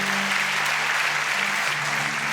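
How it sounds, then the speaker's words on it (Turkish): Steady, full audience applause fills a live comedy stage show as participants head back to their seats, dense and continuous from start to finish with no break. "Evet sahnedekiler alkışlarla yerine gitsin."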